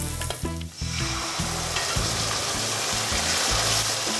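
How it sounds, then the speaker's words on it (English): Red chili powder is stirred into an Indian dish in a pan, then chopped tomatoes go in, with a loud, steady sizzle and fry and a burst of crackling as the tomatoes hit the hot oil. "Stir the chili in and then add a tin of chopped tomatoes."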